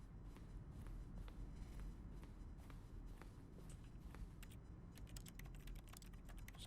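Computer keyboard typing in The Stanley Parable video game, a quick run of crisp, close key clicks that becomes a denser rattle of taps toward the end.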